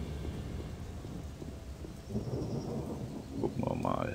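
Steady rain hiss in the video game Odyssee, with low rumbling thunder-like noise, moderately loud and continuous throughout, swelling slightly toward the end.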